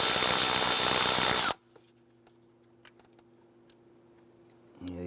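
A power tool whirs loudly for about a second and a half, loosening 8mm bolts around the intake of a 2011–2018 Ram 1500. It then cuts off into quiet faint ticks, and a brief buzz returns at the end.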